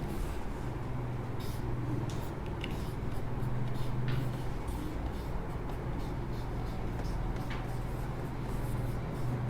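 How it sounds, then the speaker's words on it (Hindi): A marker or chalk scratches across a board in short strokes and taps through a steady, hissy room background, with no talking. "मैं लिख देता हूँ यहाँ पे"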